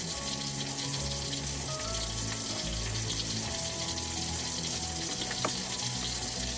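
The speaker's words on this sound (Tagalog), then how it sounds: "mag-add na tayo ng water. Mga 250 ml na water lang muna." Water is poured into a pan of sweet and sour sauce for a lapu-lapu dish, giving a soft, continuous splashing and sizzling wash over low kitchen hum, with no talking.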